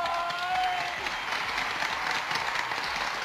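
A studio audience bursts into steady, dense applause on a Thai entertainment show as a winner's prize is revealed, loud and continuous throughout with a faint voice murmuring underneath.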